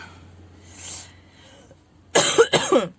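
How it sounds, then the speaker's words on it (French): Two or three sharp coughs burst out close by near the end, after a quiet stretch of faint background noise. "Et je tousse toujours."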